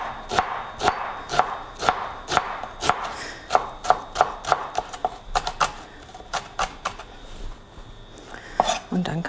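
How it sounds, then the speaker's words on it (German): A knife chops a red onion on a board, roughly twenty crisp, rhythmic strokes at a slightly uneven pace, close and clear with no talking. "schneide ich noch mal schnell die andere rote Zwiebel"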